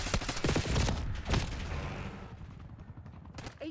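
Gunfire from the video game Black Ops 6: a dense burst of rapid shots near the start, then a rattling volley that slowly fades under a low rumble, loud and close, with no talk.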